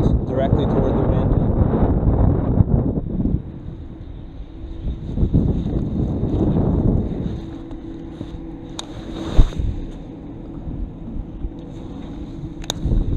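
Wind buffets steadily while fishing from a boat on open water, a loud, rumbling gusty roar at the start that eases into a lower, steady blowing with a few faint knocks.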